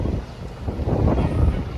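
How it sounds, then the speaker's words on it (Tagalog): Strong wind at Parqal in Baclaran, buffeting the microphone as a constant low rumbling roar with gusty swells and no pause. "Ang lakas ng hangin."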